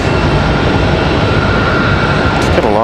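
An Airbus A319 at Raleigh-Durham airport gives off a loud, continuous broadband roar of jet engine noise close by, steady throughout, with no talking.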